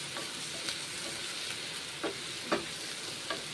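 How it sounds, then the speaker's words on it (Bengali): Ground green chili paste fries in a pan with a soft, steady sizzle, close and fairly quiet, broken by a few brief stirring knocks. "দুটো কাঁচা লঙ্কা বেটে দিলাম, ভেজে নিচ্ছি।"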